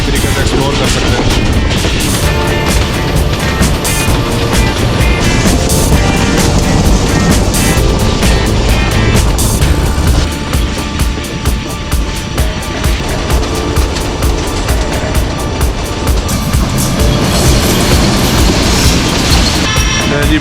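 Jaffar Express passenger train running between Lahore and Rawalpindi through Punjab, heard as a loud, continuous roar with dense wheel clatter and rumble, steady throughout with a slight dip midway.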